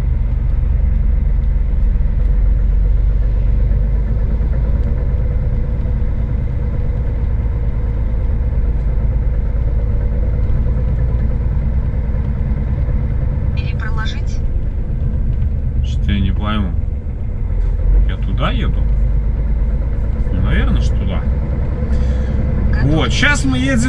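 A car drives along the road toward Hamburg; a steady low engine and road rumble runs throughout, with people talking over it in the second half.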